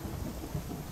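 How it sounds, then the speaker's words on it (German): Rain and rolling thunder from the video game Orion Prelude form a dense, low rumble over a steady hiss of rainfall, lasting about a second with no voices. "Warum regnet es denn jetzt?"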